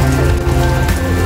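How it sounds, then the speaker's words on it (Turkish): Steady rain patters on surfaces outdoors, a dense continuous hiss with scattered droplet ticks, loud and close, holding evenly with no talking over it. "Yağmur bir duruyor bir yağıyor."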